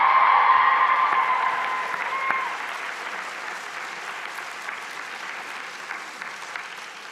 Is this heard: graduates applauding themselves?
yes